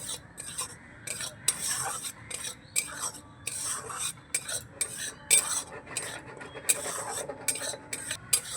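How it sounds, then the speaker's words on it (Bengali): Roasted gram flour (sattu) is dry-fried over a low gas flame in a wok, heard as a rhythmic series of close metal spoon scrapes and rasping strokes against the pan, with no talking. "এই ছাতুটাকে আমি হালকা করে একটু ভেজে নেব কড়াইতে দিয়ে গ্যাসের ফ্লেমটা এখন একেবারে লোতে রেখে ছাতুটাকে হালকা করে ভেজে নেব"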